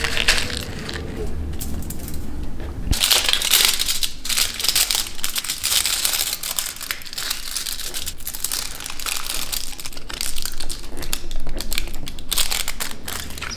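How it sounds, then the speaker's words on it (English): Aluminum foil folded around seeds to make a homemade seedling packet crinkles and crackles steadily and loudly up close, with a sharp burst of crumpling partway through. "I'm going to use an aluminum foil to fold the seeds in."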